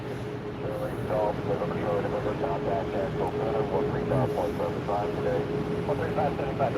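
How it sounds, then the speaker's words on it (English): A steady, loud jet engine roar from a Sun Country airliner at Orlando airport fills the scene, with a person talking over it throughout. "Sun Country flight 343 coming from Indianapolis."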